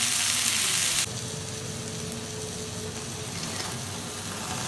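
Chicken reshmi kababs sear over an open gas flame, giving a steady close sizzle and crackle that loudens briefly at the start and then settles into a constant hiss.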